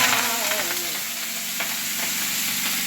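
Chopped greens hitting hot oil with garlic and green chili, a loud close sizzle and crackle that settles into steady frying hiss as the leaves are stirred.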